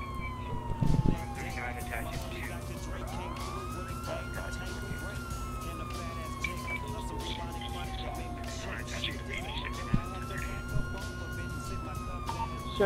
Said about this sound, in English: And there goes the sirens.